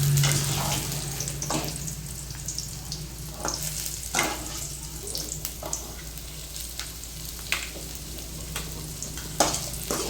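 Ridge gourd masala fries in oil in a pan, with a constant loud sizzle and repeated scraping stir strokes at an irregular pace.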